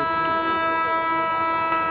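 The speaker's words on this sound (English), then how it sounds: "The sound of an approaching train is heard from a distance." A train on the Accra–Tema service approaches Bachuna rail station in Ghana, its horn sounding a loud sustained chord over the rumble of the rolling train, with no talking.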